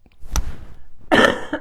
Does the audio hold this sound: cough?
yes